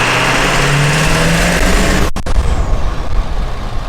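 A Ford OBS pickup truck fitted with a new Banks Monster exhaust drives along, a loud steady engine drone and exhaust roar that cuts off sharply partway through, then rougher rumbling road noise.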